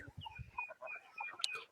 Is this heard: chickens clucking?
yes